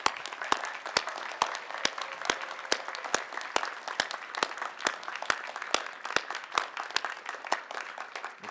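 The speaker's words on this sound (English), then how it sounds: "applause." Audience applause fills a law school hooding ceremony, continuous crowd clapping with sharp, regularly spaced loud claps standing out up front, sustained for several seconds without speech.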